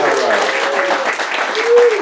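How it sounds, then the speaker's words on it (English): A small group claps and cheers briefly in a casual indoor setting, with voices mixed into the applause. "let's give him a round of applause"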